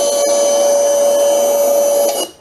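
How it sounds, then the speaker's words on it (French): A vacuum cleaner runs with a steady high-pitched whine and a constant strong hum, loud and close, then cuts off abruptly near the end. "C'est quoi cet aspirateur de merde?"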